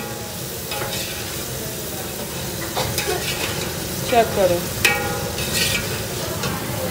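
Potatoes sizzle and fry in a pot while a spoon stirs and scrapes against the metal, with a few louder clanks toward the end and brief talk over the cooking.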